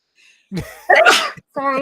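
A single sharp sneeze from a person in a casual conversation, close and loud, followed by a brief spoken apology.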